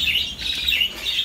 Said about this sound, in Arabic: صنادق د الطيور، عندنا الطيور